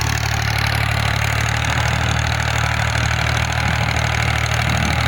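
A 1979 Fiat 480 tractor runs steadily with a heavy 60-blade rotavator attached, its engine giving a constant loud low chugging throb with no break and no voices.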